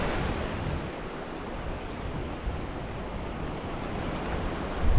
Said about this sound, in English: The sound of the waves, the smell of the sea, the sound of the seabirds.